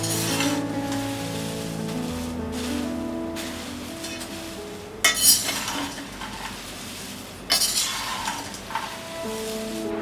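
Murmura chivda with fried potato sticks being stirred with red chili powder in a pan, giving a steady rustle with clinks of a metal spoon against the pan and two louder scraping bursts midway.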